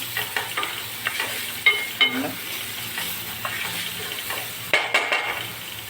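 Spoon stirring and scraping in a hot pan as garlic, cumin and turmeric sauté in oil for a ridge gourd vegetable dish, with soft sizzling and intermittent metallic clinks, close and alone.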